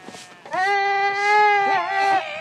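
A single cashmere goat on a Mongolian nomadic mountain farm lets out one long, loud, wavering bleat, close up and alone.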